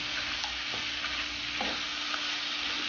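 Dragon chicken being stirred in sauce in a hot pan, a continuous soft sizzle with scraping stir strokes, close and steady, no voices.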